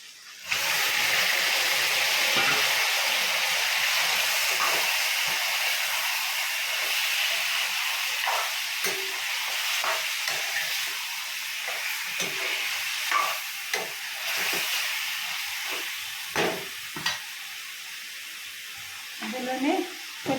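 Chicken goes into a pan of fried ginger garlic paste and sizzles with a steady, bright hiss. Occasional clinks and stirring knocks stand out over the sizzle.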